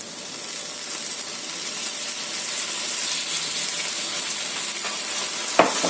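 Soy sauce hits chicken frying in a pan, giving a steady, close sizzle and crackle throughout, with a brief sharp clatter near the end.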